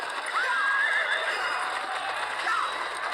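A loud, wavering horse whinny in a video game rings out close and clear over a busy noisy background, with a second shorter neigh trailing near the end.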